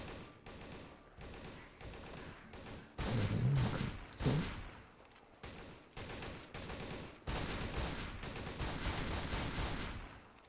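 Shotgun fire in the video game Darkest Days, a rapid run of loud, heavy blasts spaced close together, with a denser, more punchy stretch partway through and no talking.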